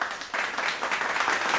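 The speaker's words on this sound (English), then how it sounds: "let's go ahead and clap it up for them" A small audience claps for about a second and a half, a steady, fairly quiet patter of applause without pause.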